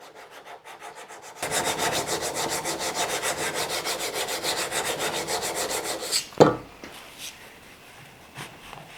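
A chisel is rubbed back and forth on a 240 grit diamond plate, giving a steady rhythmic rasping scrape that runs for several seconds before stopping with a single knock.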